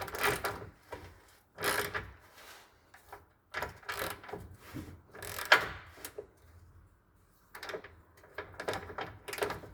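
A wrench turns a bolt on the suspension of an Acura MDX, giving bursts of close mechanical scraping and ratcheting clicks separated by short quiet gaps.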